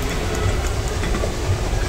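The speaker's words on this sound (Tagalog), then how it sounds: "kumulo na yata yung sinahin ko" A steady low rumbling bubble with a constant noisy hiss from a pot of rice boiling vigorously nearby, with no voices.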